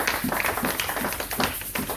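A church congregation claps and cheers in acclaim for Jesus, a dense, rhythmic wash of applause heard close and steady for a couple of seconds.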